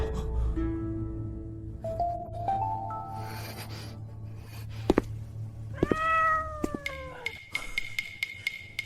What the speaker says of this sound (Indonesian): Itu kucing.